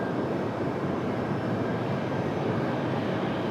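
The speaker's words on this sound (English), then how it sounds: "That was our arrival there, that A220." A JetBlue Airbus A220-300 airliner arriving at Raleigh-Durham airport gives a steady, broad engine roar that stays loud and even throughout.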